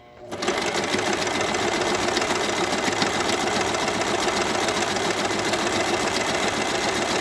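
A sewing machine sews a basic straight stitch on fabric for a simple mask, starting quickly and then running at a constant, close, rapid whir without pause.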